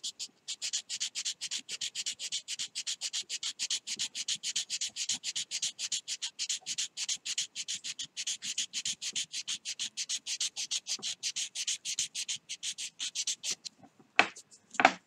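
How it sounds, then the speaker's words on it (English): Hand sanding a carved wooden fishing lure: rapid, even back-and-forth scratchy strokes, close and steady for about fourteen seconds, then stopping with a few louder knocks. "you still have a lot of sanding to do right in here to smooth this off"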